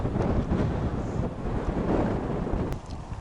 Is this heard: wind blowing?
yes